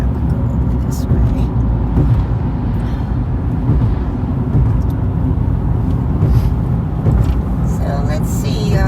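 Heavy trucks and other vehicles rumble past a car on a highway from Poulsbo to Sequim, Washington, a constant loud low drone of road noise with a voice talking over it.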